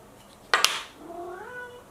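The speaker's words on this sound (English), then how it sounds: "That's my precious down there meowing, just woke up from a nap." A pet cat that has just woken from a nap gives a single rising meow after a couple of brief clicks, close by and fairly clear against a quiet room.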